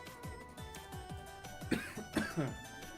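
A person recovering from an illness coughs several times in close, dry bursts, with a short throat-clearing rasp partway through, alone and fairly quiet.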